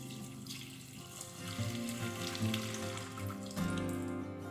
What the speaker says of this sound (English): carefully remove the bowl and pour out the solution